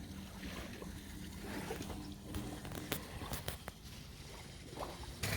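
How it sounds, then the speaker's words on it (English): Boats pass on the sea near the shore at Rathmullan, County Donegal. A faint, distant engine drone mixes with wind buffeting and water sounds, along with scattered sharp clicks and knocks close by. "Apart from the noisy boats all the time."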